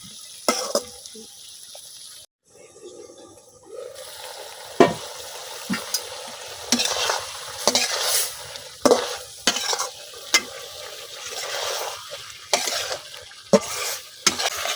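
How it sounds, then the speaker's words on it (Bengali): Ridge gourd stir-fried in a pan, releasing water as it cooks: continuous close sizzling with repeated sharp spatula scrapes and knocks against the pan, irregular and loud. "তো এখন আমি চিচিঙ্গাগুলো কিছুক্ষণ কষাই নেন।"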